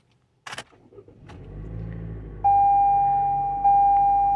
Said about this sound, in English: it'll make those three sounds at the beginning if you start the car and you're not buckled